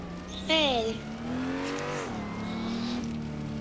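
A car in the Assetto Corsa racing game drifts and revs, its engine tone climbing and falling with a sharp squeal near the start, continuous and fairly close, while someone talks over it.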